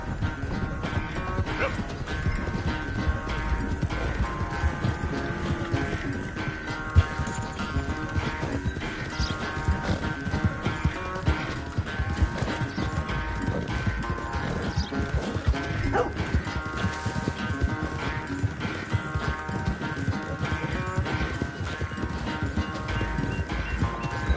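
Horse hooves clip-clop steadily during a horse race in the video game Red Dead Redemption 2, a continuous galloping rhythm mixed with game ambience and occasional rattling.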